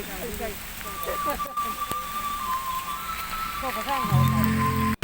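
Rain falls in a steady hiss during a ride, with someone talking over it and a low engine hum rising near the end.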